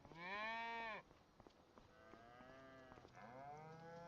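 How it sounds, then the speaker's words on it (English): Cattle in Farming Simulator 25 moo in three calls, a loud drawn-out low call first, then two quieter calls of mixed pitch from cows and calves, with no talking. "now let's check out these cows"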